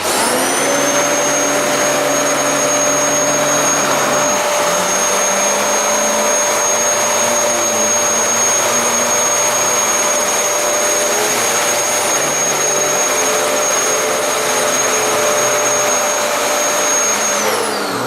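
A Kirby vacuum cleaner runs steadily and loudly with a high whine, its motor tone dipping slightly partway through before settling into a constant drone.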